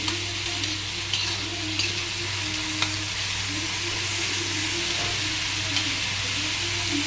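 Onions frying with garam masala in a pan for rajma curry, a steady dense sizzle with occasional stirring scrapes, close and continuous with no voices.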